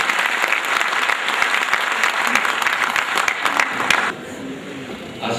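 Loud, dense applause from a conference audience at a Pasmanda Muslim community gathering, welcoming guests onstage; steady clapping for about four seconds, then dropping sharply to a quieter room tone.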